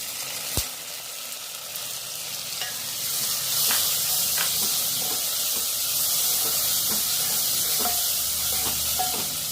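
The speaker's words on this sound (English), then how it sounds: "Now the tomatoes are getting sauteed." Tomatoes and onion sauteing in a pan for an egg and brinjal curry, a steady close sizzle and hiss with scattered stirring clicks and scrapes throughout, no voices.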